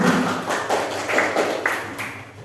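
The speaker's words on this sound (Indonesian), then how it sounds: "Berikan aplaus untuk saudara-saudara semua." Students in a classroom applaud together in a steady rhythm of about five loud claps over a couple of seconds.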